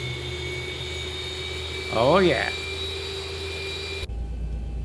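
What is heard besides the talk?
Boeing 737-800 jet engines in X-Plane 12 video game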